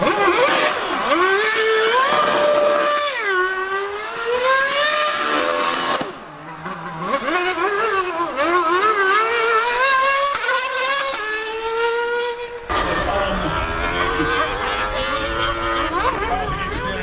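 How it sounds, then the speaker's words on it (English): Lewis Hamilton's F1 car and a 1000cc Yamaha R1M superbike race past at a motor show, loud high-pitched engines screaming up and down through gear changes, with repeated rising and falling passes that fill the whole clip. "I do not think I have witnessed anything cooler at a motor show than that Lewis Hamilton versus a 1000cc superbike racing around"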